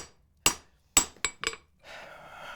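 A hammer strikes wrought iron being forged into a thin sheet, giving four sharp metallic blows at uneven intervals in an otherwise quiet space, followed by a soft, faint rustle.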